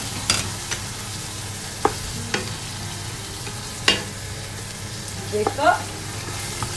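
Liver stir-fried in a pan for pancit gives a continuous sizzle broken by sharp spatula scrapes and knocks at irregular intervals, with a short burst of clatter toward the end; a voice speaks once briefly.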